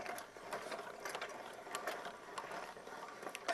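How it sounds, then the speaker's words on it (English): Hand crank on a Proline Lift King bed lift ratchets steadily, a rapid run of close metallic pawl clicks continuing throughout with no voices. "Now, once we've got that done, simple as cranking it up. Crank this up, slide your T-bar out."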